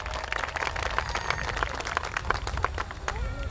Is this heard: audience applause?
yes